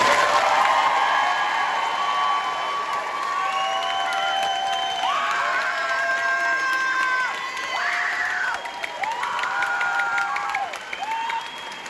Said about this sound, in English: We're just going to keep the applause going